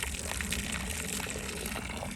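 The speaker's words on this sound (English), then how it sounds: "I'm gonna try to take out some of this old water" Old water being poured out of a drinking container outdoors, a steady gushing splash that runs continuously for a couple of seconds at moderate level.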